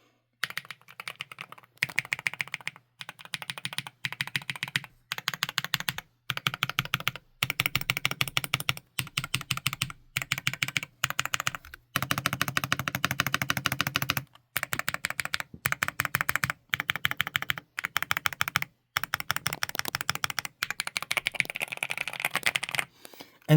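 Keys on a Chilkey Slice75 HE keyboard being typed in steady bursts with short pauses between runs, close and clear with no talking.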